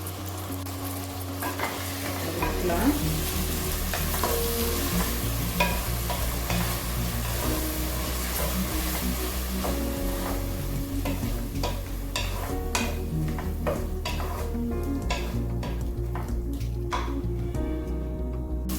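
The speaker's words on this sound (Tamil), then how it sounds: "நல்லா பச்சை பாசம் போகிற அளவுக்கு வதக்கிக்கணுங்க." Onion, green chilli and ginger-garlic paste sauté in a pan for mutton biryani, with steady oil sizzle throughout and a spoon clinking and scraping as it stirs.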